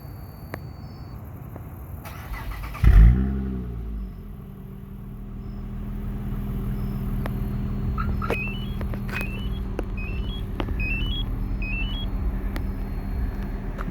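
A 2007 Acura TL Type S with the mid muffler removed for a straight pipe exhaust, starting with a loud jolt and then settling into a steady low idle rumble. Faint chirping insects carry on in the background.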